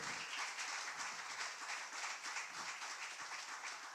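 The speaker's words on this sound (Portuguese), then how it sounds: "Pode aplaudir o nome do Senhor?" A worship congregation claps together at an evening church service, a faint, distant wash of many hands that stays steady and even throughout, with no voices over it.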